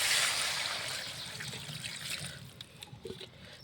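Water pours into a pan of browned, simmering bird-meat curry, a bright splashing trickle that starts strong and gradually eases off, with no talk.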